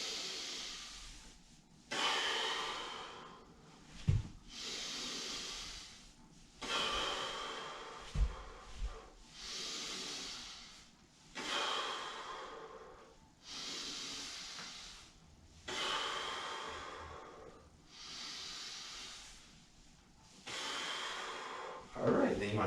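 Deep, slow breaths during a kundalini yoga archery pose, in a steady cycle of long airy inhales and exhales roughly every two to three seconds, close and fairly soft, with no talking.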